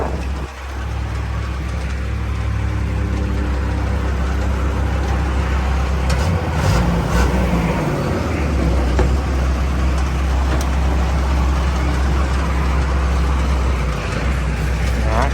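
A Sakai T2 seven-wheel pneumatic tire roller drives along with a loud, steady diesel engine drone and heavy low rumble that barely changes throughout, with no one talking.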